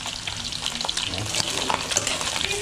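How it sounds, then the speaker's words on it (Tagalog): Dinuguan ingredients fry in a pan until golden brown, a loud continuous sizzle with stirring scrapes and crackles throughout, and a brief spoken word over it. "pinipirit natin para mag-golden brown din siya"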